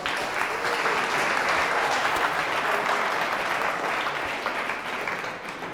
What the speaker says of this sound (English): Round of applause for Trish.